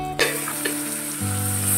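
Shallots hit hot oil with garam masala in a mutton bone dalcha, a sudden loud sizzle that settles into a steady close frying hiss with a brief stir.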